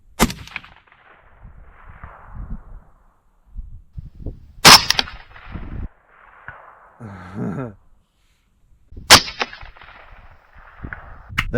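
A .22 caliber gas gun fires at a target: a few sharp, loud cracks spaced several seconds apart outdoors, with metallic clangs and someone talking between shots.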